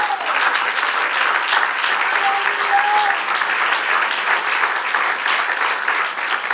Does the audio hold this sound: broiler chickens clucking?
no